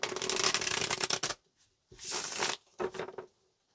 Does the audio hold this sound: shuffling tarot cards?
yes